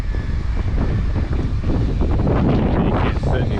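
Strong wind buffets the microphone at a cold, snowy outdoor construction site during concrete scratch-coat work, a loud, continuous low rumble with gusty surges and no speech.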